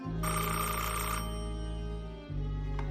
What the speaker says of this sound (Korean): 불안감을 느낀 매튜가 급하게 엘리자베스에게 전화를 합니다